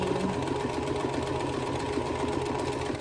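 Domestic sewing machine running steadily as a quilt block (Crossroads pattern) is stitched, a continuous mechanical whir with a rapid regular needle rhythm, close and fairly loud, with no talking.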